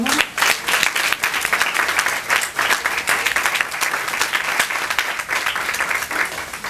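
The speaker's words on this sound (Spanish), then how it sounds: "todo el amor, el cariño y el aplauso de sus familiares y amigos a Stephanie Patrick" Family and friends at a graduation ceremony give sustained, dense applause from a crowd, steady and fairly loud for several seconds with no speech over it.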